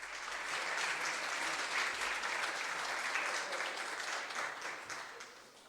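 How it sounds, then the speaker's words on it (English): Sustained applause from an audience at a town government gathering, a dense steady wash of many hands clapping that holds evenly loud throughout with no voices over it. "Give yourselves a round of applause."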